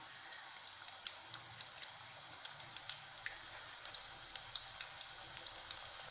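Diamond-cut pieces of sweet dough fry in hot oil, giving a steady, dense sizzle with small crackles and pops throughout, close and constant with no voices.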